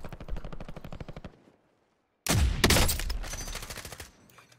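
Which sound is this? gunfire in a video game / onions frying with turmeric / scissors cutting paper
gunfire in a video game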